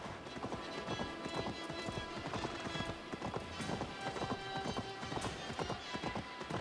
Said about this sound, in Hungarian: Megállás nélkül nyomom, hogy, hogy vágtázzon a ló